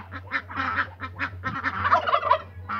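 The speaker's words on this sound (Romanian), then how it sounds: "Avem aici câteva găinușe." Hens on a small farm cluck and cackle in a steady run of short, loud calls that overlap and grow busier toward the end, close by with no talk.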